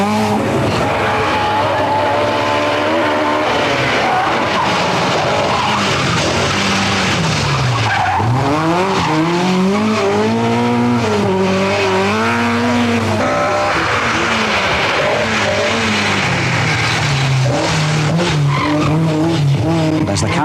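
Rally cars racing at the 1982 Manx International Rally, engines revving hard up and down with repeated squealing and skidding tyres, loud and close throughout.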